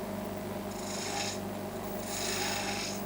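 Gouge cutting spindle stock on a turning wood lathe, a continuous rasping hiss over the steady machine hum, swelling twice as the tool engages the wood, close and moderately loud.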